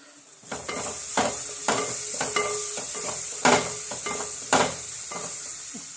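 Onions frying in a pan on the stove for egg curry, a steady sizzle with repeated stirring scrapes and a few louder clanks, close and continuous with no talking.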